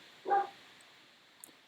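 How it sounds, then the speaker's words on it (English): A dog lets out a single short bark near the start, moderately close, followed by a quiet room with a few faint clicks. "Oh, the dog is barking."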